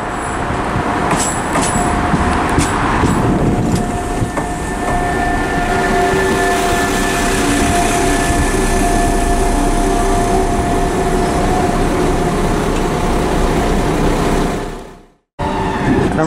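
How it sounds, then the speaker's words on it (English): A West Midlands Railway six-carriage service, two three-car Class 172 diesel units, pulls into Birmingham Snow Hill station with a loud, steady engine drone and rolling rumble throughout, a few faint high squeals early on, then cutting off abruptly near the end. "arriving now, is the 1203 West Midlands Railway service from Whitlock's End to Kidderminster"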